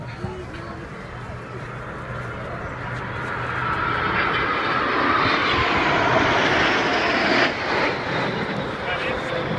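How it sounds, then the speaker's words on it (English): C-101 jet trainers pass in formation at an air show at around 300 knots; a broad jet roar swells steadily to a loud peak, then holds as the aircraft sweep by. "They are coming for a flyby at around 300 knots."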